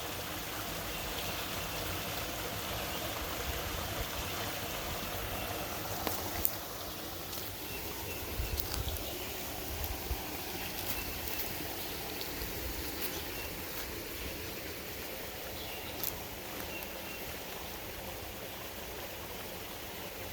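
A woodland creek runs over little gentle waterfalls and a water slide, giving a steady, even rush of flowing water that fills the whole stretch with no voices.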